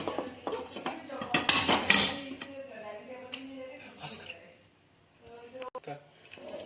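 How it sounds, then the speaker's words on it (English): Clattering metal as a vessel of rava sponge cake batter is set onto a plate stand inside a cooker: sharp clinks and scrapes of utensils in quick bursts, then quieter knocks, with a voice in places. "Now we are putting this batter beneath this cooker."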